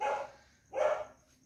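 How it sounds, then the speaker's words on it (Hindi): A dog barks twice outside a house in Australia, two loud, close woofs about half a second apart with a short yelp beginning at the end, no talking. "कुत्ता भौंक रहा है"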